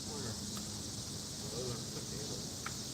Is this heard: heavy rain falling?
no